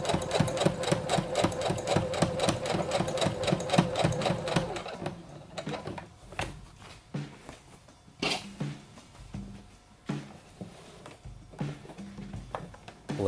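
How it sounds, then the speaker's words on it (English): Sewing machine stitching fabric for a Jedi robe, with a fast continuous run for several seconds, then quieter, scattered clicks and handling noises as the fabric is pulled tight. "I just look and stitch."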